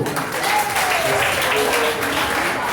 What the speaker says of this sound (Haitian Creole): Tout le monde ensemble avec nous, bonne fête, applaudissez-nous.